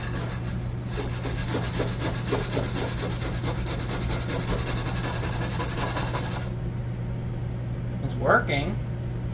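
A stove grate is scraped in a kitchen with quick, rhythmic rasping strokes that run for several seconds over a steady background hum, then stop. Someone speaks briefly.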